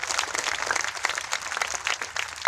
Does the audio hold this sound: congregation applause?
yes